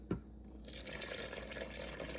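Water streams from a faucet or is poured into a bowl for a sourdough mix, with a small splash at the start and then a soft, steady trickle.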